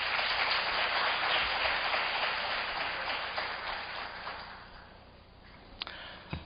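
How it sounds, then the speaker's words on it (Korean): Audience applause welcoming a professor at a Korea–Latin America conference session: steady, dense clapping from a crowd that gradually fades out, with a few final isolated claps. "모두 큰 박수로 교수님을 환영해 주시면 감사하겠습니다."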